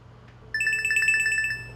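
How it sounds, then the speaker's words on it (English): A phone ringing with a bright electronic trill: a rapid, repeating beeping ringtone that starts abruptly, sounds for about a second, and fades, heard close and clear over faint background hum. "And then, my phone rang."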